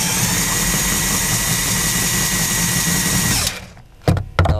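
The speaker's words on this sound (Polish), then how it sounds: "żeby odkręcić przednie podpory, trzeba włożyć tutaj klucz albo wkrętarkę tutaj" Cordless drill-driver winding the long front support screw of a caravan, a loud steady whine running for about three and a half seconds, then cutting off, followed by a few short bursts.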